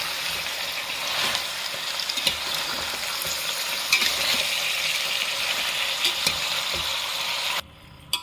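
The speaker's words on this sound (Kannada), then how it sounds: "ಈರುಳ್ಳಿ, ಉಪ್ಪು, ಅರಿಶಿನ ಪುಡಿ ಹಾಕಿ ಫ್ರೈ ಮಾಡಿದ್ದು" Sliced onions fry with salt and turmeric powder in a pan, a steady close sizzle with scraping stirs running throughout, then suddenly dropping away near the end.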